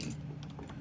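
A bunch of keys jangles faintly while a door is being locked, a few quick light metallic clinks over less than a second, close by with no talk.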